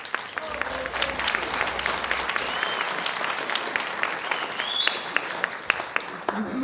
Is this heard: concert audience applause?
yes